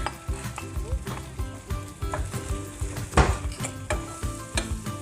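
Scrambled eggs frying in melted butter in a pan, a loud steady sizzle broken by repeated scrapes and clinks of a utensil stirring close up.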